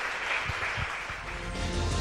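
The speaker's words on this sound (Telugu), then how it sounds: "ఒక్కసారి గట్టిగా చప్పట్లతో రాజ్ కుమార్ గారిని వేదిక పైకి ఆహ్వానించేద్దాము" An audience at a 2019 awards ceremony claps to welcome an award recipient onto the stage, producing dense, loud, sustained applause for about two seconds with no talk.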